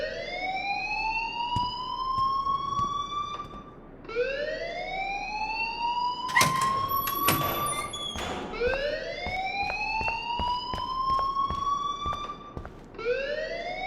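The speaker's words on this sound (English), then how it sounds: "please turn off that alarm since that's your job" Repeating electronic alarm from the video game Life Is Strange, a rising siren-like whoop that cycles every few seconds with sharp beeping bursts in the middle, loud and steady with no talking.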